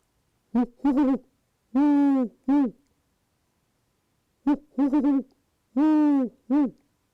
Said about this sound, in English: the great horned owl. And they have a series of low, monotone hoots